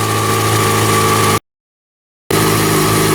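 A motorcycle engine idling at about 1500 RPM, a steady close drone that cuts to near silence for about a second before the same even idle returns.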